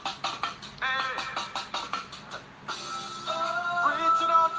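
A Virtual DJ loop of eight beats on deck 1 repeats a rhythmic musical phrase with steady pulsing hits, then shifts into a fuller sustained section, moderately loud with no talk.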